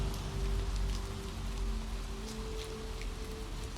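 Steady rain patters on New York City rooftops at night, a soft continuous hiss with scattered drops over a low, distant city rumble and a faint hum.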